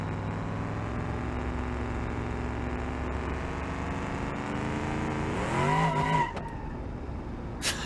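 A drag-racing cop car with a drag-racing transmission in the driving game BeamNG.drive: a loud engine drone holds steady, then revs and whines as the tires squeal briefly near the end.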